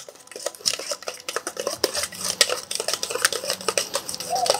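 Greek yogurt marinade for flame-grilled lamb skewers mixed in a bowl, a busy run of clinks, scrapes and wet stirring taps from utensil against the bowl, close and fairly loud with no talking.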